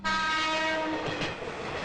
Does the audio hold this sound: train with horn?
yes